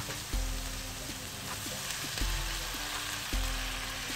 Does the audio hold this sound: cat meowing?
no